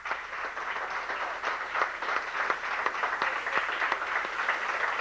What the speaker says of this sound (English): How about a nice Columbian Lane round of applause